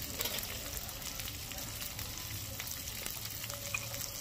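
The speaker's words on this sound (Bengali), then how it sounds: "পেঁয়াজটাকে একটু লাল করে ভেজে নেব, সব কটা একসাথে ভেজে নিতে হবে।" Chopped onion, garlic, ginger and green chili frying together in a pan, a soft continuous sizzle and hiss at low volume with faint stirring scrapes, no voices.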